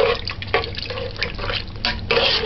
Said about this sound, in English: Add 3 cups of water.